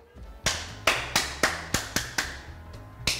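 Eight sharp hand claps in an uneven sequence, close and fairly loud, each a crisp slap with a short decay, in a quiet kitchen with no talking.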